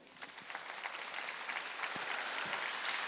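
A church congregation applauds during a Sunday worship service, steady moderate clapping filling the sanctuary for a few seconds at a fairly soft, distant level.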